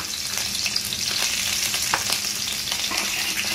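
Shrimp fry in plenty of hot oil in a wok, producing a loud, even, close-up sizzle with fine crackling throughout and no talking.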